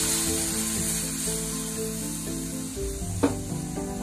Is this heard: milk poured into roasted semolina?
yes